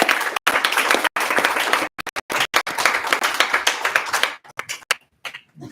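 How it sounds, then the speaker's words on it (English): Applause rings out at a board of education meeting, a loud, dense clapping crowd that breaks up and thins toward the end into a few scattered claps. "Another round of applause."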